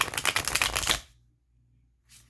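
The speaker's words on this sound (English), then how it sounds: "ASMR time for you people who like the sound of shuffling." Tarot cards are shuffled in a quick riffle of about a second, a rapid close flutter of snapping cards, followed by silence and a brief soft card rustle at the end.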